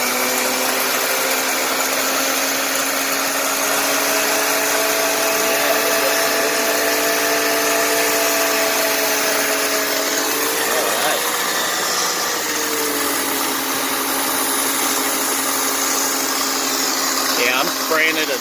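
A 2003 Honda Accord J30 V6 with a broken PCV valve is revved steadily from idle while foam intake cleaner is sprayed in, giving a loud, continuous engine drone with a hissing spray layer and slight pitch dips, close up with voices over it.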